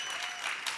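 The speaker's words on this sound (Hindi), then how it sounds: "एक बार गौहर और राजीव के लिए जोरदार तालियां।" A dense wash of clapping from an audience, steady and fairly loud throughout the brief moment.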